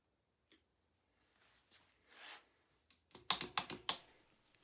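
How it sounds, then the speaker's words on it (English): A few quick snips as side-cutters cut a brake cable on a Specialized Hardrock bicycle, sharp crisp clicks clustered near the end after faint handling noises, close and fairly quiet. "Now I snip the cable and crimp on a cable end."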